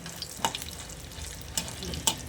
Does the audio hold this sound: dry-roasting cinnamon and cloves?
yes